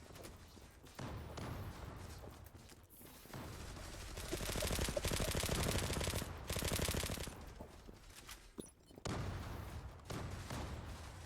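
Automatic gunfire from the online shooter Zula arrives in long rapid bursts of dense, loud rattling shots separated by brief pauses, close-sounding and dominating throughout.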